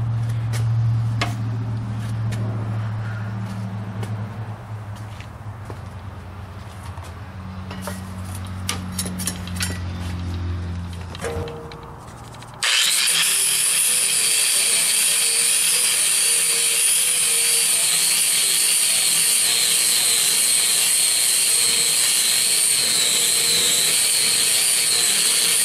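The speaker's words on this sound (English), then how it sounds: "let's try a sander and see what that does to the paint" An electric sander strips paint from a metal tool box, starting abruptly about halfway through with a loud, steady, hissing grind that continues to the end after a quieter stretch of handling noise.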